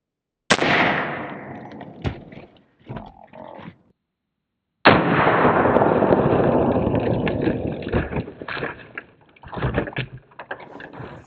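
A rifle fired from a longer barrel at a lightweight Level III steel armor plate outdoors, two sharp, loud shots, each followed by a long rolling echo that slowly fades.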